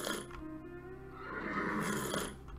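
A horse in a cowboy life simulator video game reacts while drinking water with a whinnying, grumbling call, heard alongside mechanical creaking from the pump, close and moderately loud.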